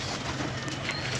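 Pet pigeons cooing softly, a low murmuring coo close by, steady and unbroken over a faint background hiss, no talking.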